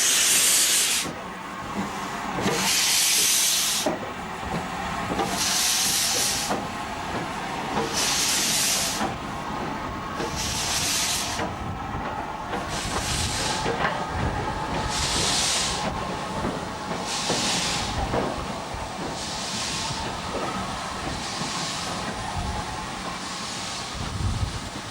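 A steam locomotive hauls a northbound freight train through Bury South station on the East Lancashire Railway, with loud, slow, evenly spaced exhaust chuffs and a steady hiss of steam over rumbling wagons, and no voices.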